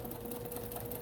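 A sewing machine top stitches a bag with a lengthened stitch, running fast in one brief, even burst of rapid needle chatter up close.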